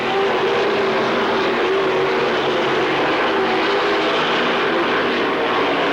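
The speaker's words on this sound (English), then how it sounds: "The Jet is hard on the hammer in car number 5, and Jamie now out in front." Dirt track race cars at Lernerville in 1997, a loud steady engine roar from the pack holding without letup, like a droning aircraft, no talk over it.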